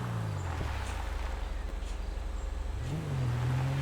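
A car engine in GTA 5 hums steadily at a low pitch, then rises in a brief rev near the end. It is heard alone, without voices.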